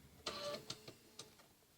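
Sewing machine stitching a curl on a folded quilt in a Baptist fan pattern, a short close burst of whirring stitches followed by a few fainter clicks.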